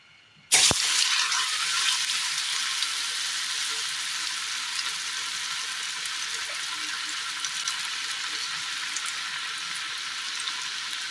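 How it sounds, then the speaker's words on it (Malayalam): Ripe banana dropped into hot oil in a frying pan bursts into loud, continuous sizzling that holds steady and close throughout, with a brief sharp contact sound at the start. "അടുപ്പത്ത് ചീൻചട്ടിയിൽ ഒരൽപ്പം എണ്ണ വെച്ചിട്ടുണ്ട്. ഇനി ഇതിലേക്ക് ഈ പഴം നമുക്ക് വെച്ച് കൊടുക്കാം."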